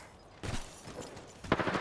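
Gunfire in a battle royale game: two short, sharp bursts of shots, separated by a brief lull, over a low background hum.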